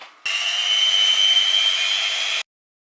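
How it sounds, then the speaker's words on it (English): An electric hand whisk beats cake batter for a green gâteau, a steady, even motor whir running for about two seconds, close and alone, then cutting off abruptly into silence. "electric whisk out, and apparently it takes about 8 minutes"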